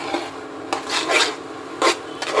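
A stiff dough is stirred and scraped in a pan, giving dry, rasping strokes in an uneven rhythm, close and moderately loud, with no talking.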